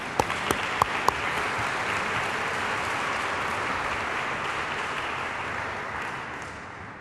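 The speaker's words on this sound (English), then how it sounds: "one more round of applause for all of the generous sponsors this year." Graduation ceremony audience applauds the event's sponsors, opening with a few sharp individual claps before settling into a broad, even wash of crowd clapping that holds steady throughout.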